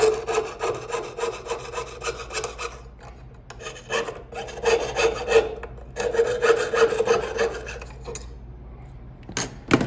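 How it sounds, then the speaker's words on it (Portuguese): A jeweller's saw cuts metal for a signet ring matrix in a workshop, making close, rhythmic rasping back-and-forth strokes in several runs separated by short pauses. "serrei um lado, agora o processo aqui é serrar o outro lado"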